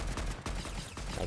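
Gunfire in Fortnite Season 5 on Nintendo Switch: a string of loud, close shots in an uneven burst rhythm over a dense game soundscape.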